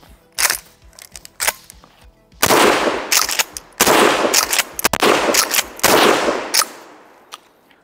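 A Maverick 88 Cruiser pump shotgun is fired outdoors, several loud booming shots in fairly quick succession, each with a decaying tail and clatter between them.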